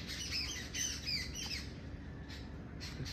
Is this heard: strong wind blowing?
no